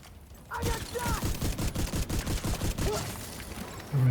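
Turret gunfire rattles in a video game battle, a rapid fusillade of a dozen or so sharp shots in quick rhythm over a few seconds, loud and close.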